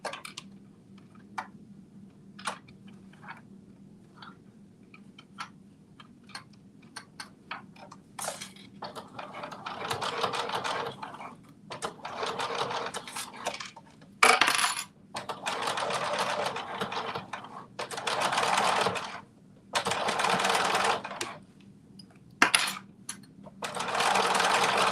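A sewing machine putting a top stitch into a Simplicity 2450 View B garment, starting with sparse ticks and clicks, then running in several whirring bursts of a few seconds each, separated by short pauses.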